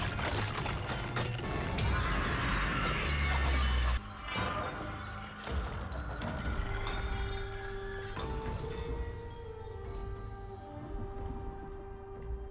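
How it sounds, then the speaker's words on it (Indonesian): A magic mirror struck by a thrown axe shatters in a fantasy film scene, a loud burst of breaking glass with crashing debris, followed by lingering dramatic score and resonant effects. "melemparkan kampaknya menuju cermin ajaib dan boom, cermin pun hancur"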